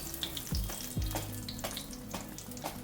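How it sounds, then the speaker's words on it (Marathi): Ridge gourd bhaji fritters sizzle in hot oil in a home kitchen, a steady close crackling fry with brief scraping stirs near the start. "आवाज तर बघा किती छान मस्त येतोय बघा भजीचा"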